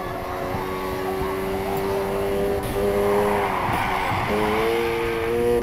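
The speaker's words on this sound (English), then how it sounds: "Keep that drift going." Car drifting in Need for Speed Heat, its engine droning loudly and steadily while tires squeal through a sustained slide, with pitch shifts as the throttle changes, continuous and close throughout.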